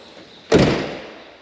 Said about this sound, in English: That door closes pretty good.